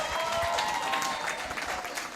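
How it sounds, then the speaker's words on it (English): An audience at a strategic thinking workshop applauding, a dense wash of clapping hands that holds steady and slowly thins, with a faint voice underneath. "give yourselves a round of applause"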